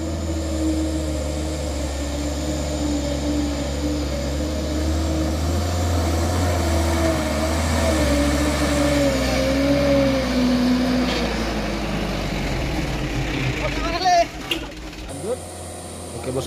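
A Mitsubishi Canter 125 truck engine, loaded with about 8 tons, drones steadily and rises in pitch as it revs, loud and close, before cutting off into clattering at the end.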